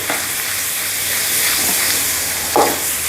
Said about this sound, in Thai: แล้วใส่หมูลงไปแล้วเรียบร้อยผัด นะผัด